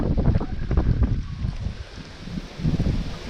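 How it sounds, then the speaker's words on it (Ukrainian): Strong wind buffets the microphone in heavy, rumbling gusts that rise and fall while fishing for crucian carp, with faint water sounds beneath. "вітер роздувся, просто шалений"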